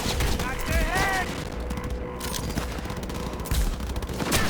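Gunfire during a firefight in the video game Cyberpunk, rapid overlapping shots and bursts close by, with people shouting and talking over the continuous shooting.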